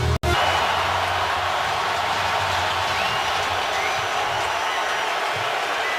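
Cleveland Browns fans roar in the stadium during a 2014 NFL game against the Ravens, a dense sustained crowd noise that follows a brief sharp cutoff at the start, with a voice talking over it.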